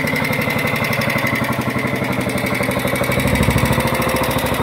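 A 1966 Matchless G80CS 500cc single-cylinder motorcycle engine runs steadily close by, its rapid even thumping firing pulses continuous throughout with a slight swell near the end and no talk over it.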